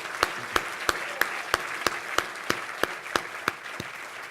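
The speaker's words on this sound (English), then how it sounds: "Give him a great big round of applause." Audience applause at a symposium on local solutions to environment and energy challenges, with a steady, evenly spaced clap of about a dozen sharp beats standing out over a soft crowd wash.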